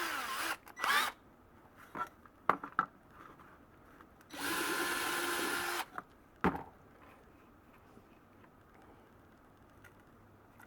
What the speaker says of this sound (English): I did not drill that hole big enough